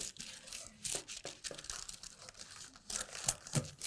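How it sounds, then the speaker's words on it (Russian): Scissors cut paper as a bust dart is trimmed from a summer dress pattern, giving close, soft crinkling and snipping sounds in quick irregular bursts. "Вырезаю нагрудную выточку."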